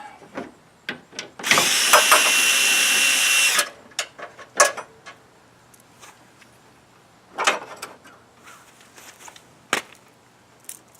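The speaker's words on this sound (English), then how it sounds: "Let me pull these bolts out here." During a repair on a 2005 Chevrolet Cobalt, a power tool buzzes for about two seconds while pulling out mounting bolts, nearby and loud, surrounded by scattered clanks and knocks of metal parts and tools.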